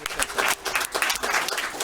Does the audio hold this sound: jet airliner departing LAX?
no